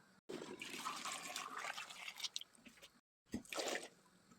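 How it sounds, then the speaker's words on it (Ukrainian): Boiling water poured into a pot of paradise apples, a splashing, trickling pour that runs steadily for a few seconds, breaks off briefly, then resumes close by with no talk. "І тепер заливаю кип'ятком, ставлю на вогонь і 2-3 хвилини буду бланшурувати."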